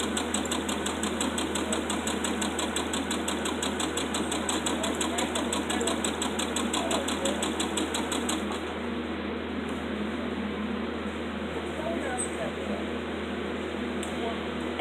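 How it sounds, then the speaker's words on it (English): A sewing machine stitches fabric bunting in a steady, fast mechanical whir with a constant rhythmic tick, close and continuous, and a person talks over it. "So you're just going to keep sewing."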